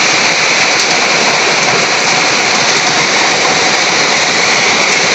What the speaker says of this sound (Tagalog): O, yan sa nakikita nyo, ang lakas ng ulan.